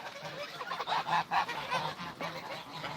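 Çorum geese on a farm honk in a loose chorus, several birds calling close by in short, nasal bursts that overlap and then trail off, with no voices over them.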